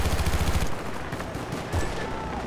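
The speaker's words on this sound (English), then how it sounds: "Shoot it with heavy machine guns" Heavy machine gun fire in the game Battlefield Bad Company 2, a loud, rapid burst of booming shots for about three quarters of a second, followed by scattered distant gunfire.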